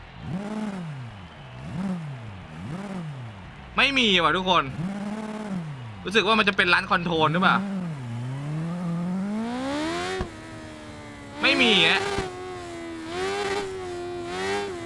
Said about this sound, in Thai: เราขอดูเวลาเร่งเครื่องดิมันจะมีเสียงฟิวฟิวฟิวฟิวหรือเปล่า